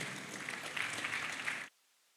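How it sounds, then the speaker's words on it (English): Conference audience at an ICT club event claps together, a steady wash of applause that stops abruptly partway through, leaving near silence. "Let's give all the partners who came today a grand round of applause, please."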